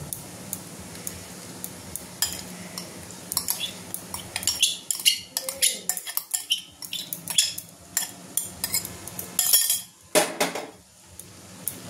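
Chicken pieces tipped into a kadai of chow mein ingredients and stirred, with metal spoon scraping and clinking against the cookware in irregular bursts, close and clear, no talk.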